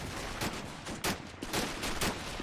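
Gunfire in the WWII strategy game Men of War: Assault Squad 2, with US Army troops defending a European airfield in 1944: repeated sharp shots and bursts ring out in an uneven rhythm, some louder and closer, over a steady battle din.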